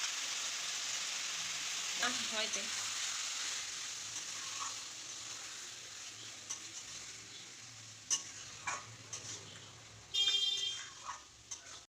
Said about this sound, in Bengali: ওর মধ্যে মাংসগুলো দিয়ে দিলাম এবার মাংসগুলো নাড়তে থাকলাম